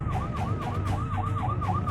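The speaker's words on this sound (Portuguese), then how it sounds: "A ambulância está passando." An ambulance siren wails in a repeating rising-and-falling pattern as it passes through a heavy traffic jam in Grozny, loud and steady over a low rumble of idling vehicle engines.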